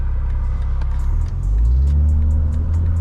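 A BMW M340i moves through heavy traffic, its engine a loud, steady low rumble heard from inside the car that swells slightly partway through, with faint ticking above it.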